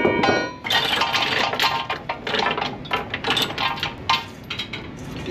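Heavy metal chains being handled to secure a truck load, clinking and clanking in irregular bursts at close range, with sharp metallic rattles standing out over a quieter background.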